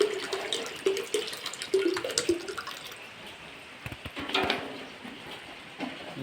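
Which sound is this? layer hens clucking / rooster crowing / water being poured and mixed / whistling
water being poured and mixed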